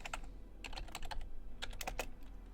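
Keys clatter on a computer keyboard in quick irregular bursts, close and fairly quiet, with brief pauses between runs of strokes and no voices.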